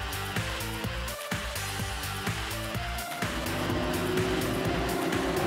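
Radical race cars roll toward the start at Croft circuit during the 2006 Radical Enduro & Biduro Cup, engines droning and rising together as the field picks up speed, loud and continuous with a commentator talking throughout.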